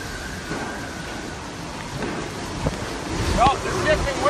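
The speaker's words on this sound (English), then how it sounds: "Man, it comes in waves, doesn't it?" Hurricane Michael's wind roars in a steady broadband rush, gusting and shifting, building louder toward the end with a few sharp buffets.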